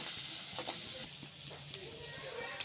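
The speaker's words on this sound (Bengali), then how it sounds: "পেঁয়াজ ভাজা হয়ে গেছে" Chopped onion, garlic and green chili with black cumin seeds fry in hot oil, giving a soft, steady sizzle broken by a few light stirring clinks.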